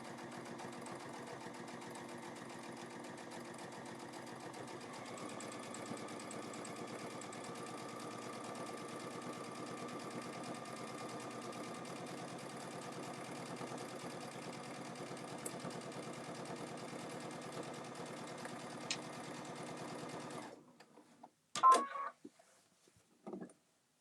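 A sewing machine runs in one long, steady, continuous stitching burst along a bag's bottom seam, close and even in tone, then stops, followed by a few brief handling clicks.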